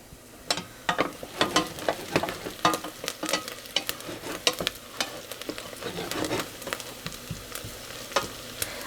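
Bison meatballs sizzle and fry in a cast iron pan, a steady crackling spatter with frequent sharp pops and occasional stirring scrapes, close and fairly loud with no talking.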